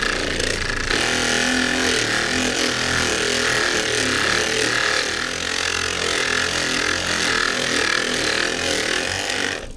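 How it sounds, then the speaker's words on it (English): An old electric buffer polishing a 1993 Yamaha FZR motorcycle fuel tank runs continuously nearby, a steady loud motor whine with a buzzy, grinding edge and no pauses or talking. "You're buffing with this. This is an old buffer."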